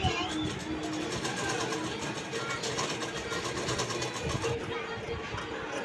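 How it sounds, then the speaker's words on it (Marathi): A sewing machine runs steadily, stitching the lining along the neckline of a princess-cut blouse, its rapid mechanical chatter continuous throughout, close and moderately loud, with faint background noise. "याला पण नेकला असे गड्याच्या साईडने असे स्टिच टाकून घ्यायचे हळूहळू"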